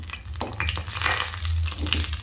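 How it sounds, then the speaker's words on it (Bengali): Dal paturi sizzles and crackles in a hot pan, with scraping and stirring sounds as it is turned over. "ভালো করে এদিক ওদিক করে ভেজে নিচ্ছি"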